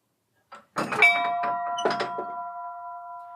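A bright bell-like tone rings out after a few soft knocks and clatters, its steady harmonic tones sustaining and lingering clearly to the end.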